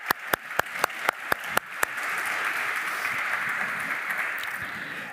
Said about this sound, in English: I would like to welcome you by a round of applause.